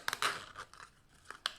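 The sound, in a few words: opening a recycled zipper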